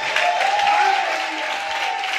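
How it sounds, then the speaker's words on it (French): A church congregation applauds and cheers, dense clapping mixed with raised voices and a sustained high shout, loud and brief. "Il faut acclamer avec des cris de joie."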